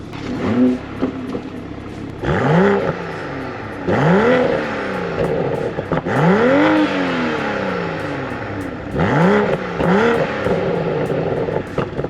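A 2022 Toyota Supra's B58 engine starts and is revved in a series of loud, close blips that climb and drop back to a rumbling idle.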